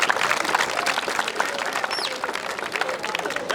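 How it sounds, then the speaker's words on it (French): Audience applause in a school in Congo, a burst of clapping from a crowd with some whistling and chatter mixed in, fairly loud and continuous. "Vous applaudissez."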